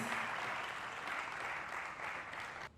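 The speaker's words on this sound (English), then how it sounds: "A big round of applause for him," Steady applause from an audience at a youth business forum greets a speaker, a dense even patter of many hands that holds for several seconds before dropping off abruptly at the end.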